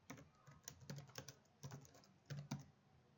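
Rapid, uneven keystrokes on a computer keyboard with a non-Spanish layout, close and clear, with short pauses between bursts while entering SQL*Plus Oracle commands.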